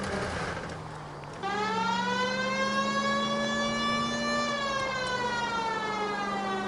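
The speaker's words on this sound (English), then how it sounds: "Use the goddamn siren." A steady, tonal video game siren wails continuously, rising in pitch after a brief lower start and then holding a loud sustained whine.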